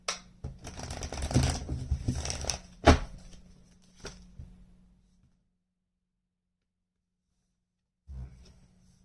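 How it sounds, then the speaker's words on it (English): Tarot cards being shuffled by hand, a few seconds of rapid riffling and slapping followed by a pause, then a short final burst of shuffling, close and fairly quiet. "Intuitively sensing one more shuffle."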